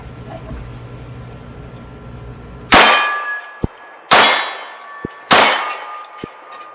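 Three loud, close pistol shots from 9mm and Tokarev handguns fired at clay blocks on an outdoor range, each sharp crack ringing metallically with a fainter clang of impact shortly after.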